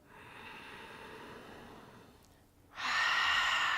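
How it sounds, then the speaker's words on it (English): Deep breaths exhaled through the mouth during a guided breathing and Om chanting session: a long, soft, airy exhale that fades, then a louder, sharper rush of breath near the end, with no talking. "And release that breath out of your mouth."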